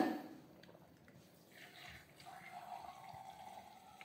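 Water running from an opened tap in a subsidized housing development, a faint, steady trickle heard at low level with a soft hiss throughout.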